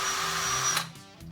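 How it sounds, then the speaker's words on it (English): A power drill bores a test hole in scrap wood while building a homemade electric guitar, running close and steady for under a second before spinning down. "I'm going to drill a test hole in some scrap"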